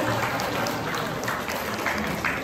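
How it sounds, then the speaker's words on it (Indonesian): Audience applause following a parenting talk show segment, a dense steady wash of clapping filling the whole stretch at even loudness, with no voices standing out. "Tepuk tangan semuanya."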